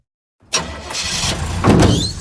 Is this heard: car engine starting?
yes